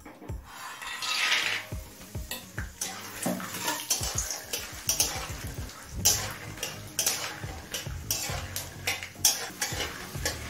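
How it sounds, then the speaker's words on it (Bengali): Peanuts fry in mustard oil in a wok over a low gas flame, a quiet bubbling sizzle broken by repeated scraping and rattling stirs. "গ্যাসের ফ্লেমটা লোতে করে দিয়ে কিছুটা চিনি বাদাম ভেজে নেব।"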